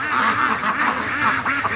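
Free-range ducks quacking loudly in agitation, a rapid overlapping chorus of harsh nasal quacks repeating rhythmically and close by, with no talking.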